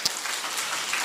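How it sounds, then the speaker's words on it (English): Children clapping together in a classroom gathering, a dense, steady patter of many hands, moderately loud throughout the short burst. "Can you give yourself a round of applause?"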